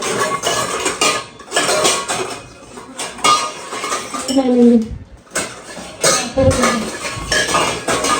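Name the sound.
tea pots and utensils being handled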